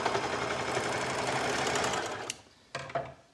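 A home sewing machine stitches fabric in a steady, fast mechanical whir that runs for a little over two seconds, then stops, followed by a few short restarting bursts.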